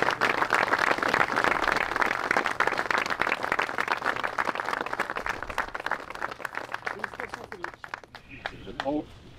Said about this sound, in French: C'est Cédric Frison que je vous demande d'applaudir